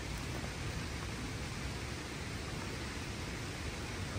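Nonstop rain falls in a steady, even hiss, faint and unbroken throughout, with no voices.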